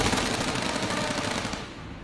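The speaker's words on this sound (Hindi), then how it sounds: "उन्होंने फायर शुरू कर दिया।" Rapid gunfire sound effect in a Hindi audio story, a dense loud burst of shots as two thugs open fire outside a hotel, with no talk over it.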